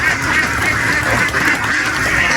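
Laying ducks kept in a separate pen quack in a loud, dense chorus at feeding time, with overlapping calls continuing throughout.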